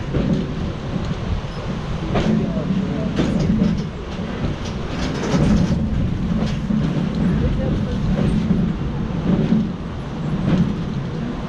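A historic train ride at the National Railroad Museum in Green Bay, Wisconsin: a steady, loud rumble of the moving cars with repeated rhythmic clacks of wheels on rail joints.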